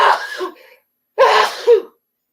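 A sneeze bursts out indoors during a relaxed live chat, with a second explosive burst about a second later after a short pause; close and fairly loud, with no talk over it.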